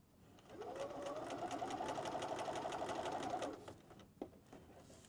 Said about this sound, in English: put it underneath your presser foot and edge stitch all the way around